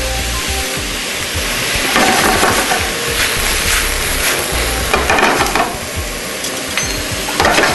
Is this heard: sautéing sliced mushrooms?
yes